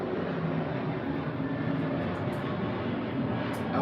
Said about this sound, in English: A lot of planes.